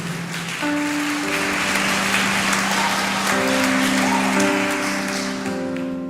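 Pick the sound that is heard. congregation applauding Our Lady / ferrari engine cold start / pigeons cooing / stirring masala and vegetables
congregation applauding Our Lady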